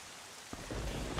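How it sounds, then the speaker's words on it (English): Steady rain with a low rumble of thunder in Zelda Wind Waker, a broadband wash that swells after a soft start and holds at moderate level, with no talking. "Especially in the rainy weather like this."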